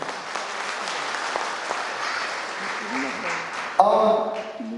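At a business company gathering, an audience applauds with a steady patter of clapping. Near the end a voice cuts in loudly over the tail of the applause.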